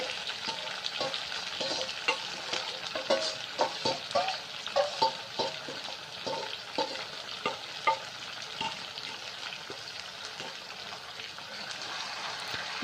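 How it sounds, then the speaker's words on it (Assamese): Mutton fries in a pan for curry, a continuous close sizzle broken by repeated scraping and knocking strokes as it is stirred, with no talk. "মাংসখিনি দি দিয়াৰ পাছত 5 মিনিটমান ভালকৈ ভাজিব।"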